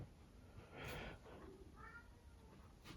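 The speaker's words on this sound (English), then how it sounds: "And my cat's going crazy." A house cat meows a few short times, faint and mid-distance, with quiet room noise between the calls.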